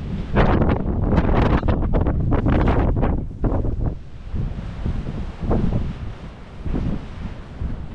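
Powerful gusts of wind rush across the microphone at Les Baux de Provence, loud and close, heaviest in the first four seconds before easing into a lower, fluctuating roar with no voices.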